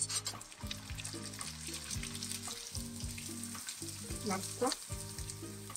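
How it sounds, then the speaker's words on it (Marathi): Potato papad fry in hot oil, giving a dense, bubbling sizzle with repeated low surges as each one goes in, and brief scraping; someone says a single word of approval partway through. "आता आपण एक एक पापड सोडून तळून घेऊयात."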